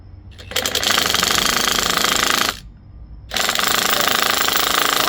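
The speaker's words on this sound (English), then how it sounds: "So let's grab the drill." A power drill runs loud and close in two sustained bursts with a short pause between, working during tire replacement on a Harley Davidson Road King motorcycle.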